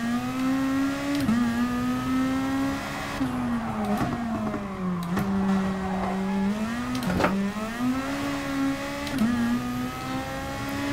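A race car engine in GT Sport during practice laps, its steady high-pitched drone rising and dipping through gear shifts and braking, with several sharp changes in pitch, close and continuous with no talk.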